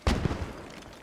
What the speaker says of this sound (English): I think that's a grenadier shot there.